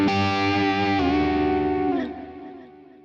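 Electric guitar through a Quad Cortex shimmer reverb, a sustained distorted chord with a shimmering chorused tail that swells, then fades after a change near the end, close and alone.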